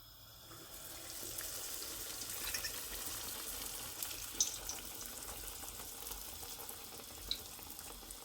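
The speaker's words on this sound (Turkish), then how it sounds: "Pişimizi attık yağın içine." Turkish puf pişi dough drops into hot oil and fries with a soft, steady hiss and crackle, fairly quiet and close, a couple of small sharp pops standing out, nobody speaking.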